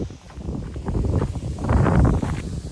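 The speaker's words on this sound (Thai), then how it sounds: "ลมแรงมาก" Strong wind gusts blowing outdoors on a forest walk near a holiday cabin in Norway, a steady rough rumbling roar with rustling that swells louder toward the end, close to the microphone.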